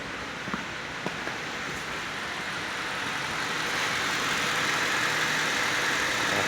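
A 1994 Honda Civic EX coupe's D16Z6 engine with 274,000 miles idles in a quiet, steady hum, with a few light clicks early on and the drone swelling slightly toward the end.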